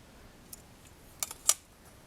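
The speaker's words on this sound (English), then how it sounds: "peel it back a little bit and trim right on that line" Polymer clay being trimmed along a line with a blade, heard as a few faint, crisp snips and clicks close by, the sharpest near the end, in an otherwise quiet room.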